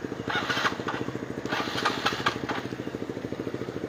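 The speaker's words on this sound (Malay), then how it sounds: "Mati motor akibat kebanjiran" A motorcycle engine stalling in flood water sputters and chugs in a steady rapid rhythm, close by, with a rough uneven idle and bursts of higher noise.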